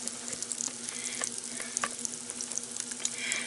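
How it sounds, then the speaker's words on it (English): Cornbread batter poured into a hot Power Pressure Cooker XL pot sizzles and crackles steadily up close, with scattered pops over a continuous hiss. "Listen to it sizzle. It's going to make that crispy coating on it that I love on cornbread."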